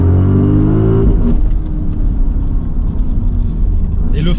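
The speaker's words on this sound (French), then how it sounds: "tu sens que ça accélère très très fort, frère." An Audi RS Q8 tuned by ABT accelerates hard, its engine a loud, close, continuous roar with a rising whine that shifts after about a second, then a sustained rumbling pull.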